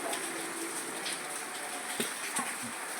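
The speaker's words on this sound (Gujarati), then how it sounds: "વરસાદ ચાલુ છે" Light rain falls steadily outdoors, a soft even hiss with a few scattered drop taps, fairly faint and without talk.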